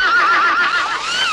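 A frightened horse gives a single loud, close whinny, a wavering neigh about a second long that rises and then falls away.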